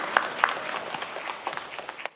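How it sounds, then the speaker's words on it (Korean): Congregation applauding during a Sunday church service, a moderate patter of clapping with a few sharper individual claps standing out near the start, fairly close and even throughout. "우리 주님께 영광의 박수 올리겠습니다"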